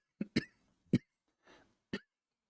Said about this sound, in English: Don't cough in the microphone.